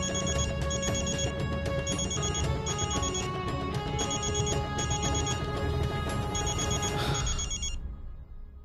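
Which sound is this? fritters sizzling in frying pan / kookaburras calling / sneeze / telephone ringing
telephone ringing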